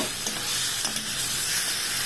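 Marinated meat sizzles in a pan without oil as it is stirred, giving a continuous close hiss of frying with a few soft scraping knocks from the stirring.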